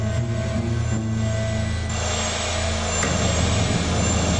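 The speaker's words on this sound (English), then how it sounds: "until all that's left is the sound of the engines" Boeing 737 jet engines isolated from a cockpit voice recording, a steady droning engine tone with sustained hum and whine running continuously throughout, no voices.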